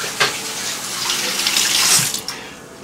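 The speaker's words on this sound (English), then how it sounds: "Wash my hands." Tap water runs steadily into a kitchen sink while hands are washed, a close, loud broadband splashing with brief shifts as the hands move under the stream.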